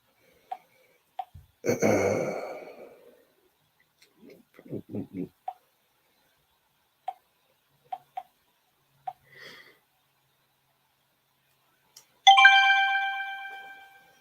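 A phone chimes with a text message alert, several short tones scattered through the quiet plus two longer ringing bursts near the start and end, with faint breathy noises between.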